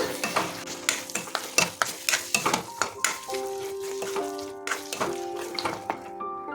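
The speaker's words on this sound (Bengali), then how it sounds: "এখন এটা বড়িটা যোগ করছি, এটাকে আমরা কিছুক্ষণ নাড়িয়ে নেব।" Fried lentil badis being stirred in a wok, a close series of sharp scraping and clattering strokes in an irregular rhythm over a faint sizzle.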